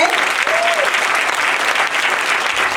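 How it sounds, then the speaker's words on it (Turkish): A dense burst of audience applause at a school year-end show and graduation cap ceremony, loud and steady throughout, with many hands clapping close together and a brief voice or whistle tone near the start. "Çok büyük bir alkış hak ettiler."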